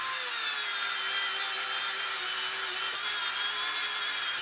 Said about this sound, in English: go inside this knuckle with a wire brush and clean up a lot of that corrosion